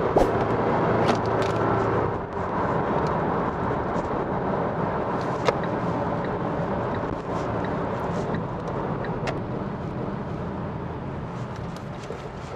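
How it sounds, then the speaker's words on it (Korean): A semi-tuned Kia Sportage R SUV engine accelerates, heard as a constant loud, broad droning roar from inside the moving vehicle, with a few faint clicks over it. "이렇게 제가 잠시 가속을 조금 했는데"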